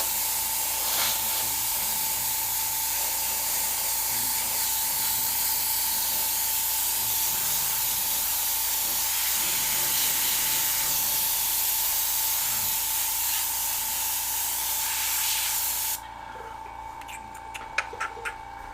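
An airbrush sprays paint on an angler fish piece while the air compressor runs hard, making a steady airy hiss and hum for about sixteen seconds before it drops to quiet, with a few faint clicks.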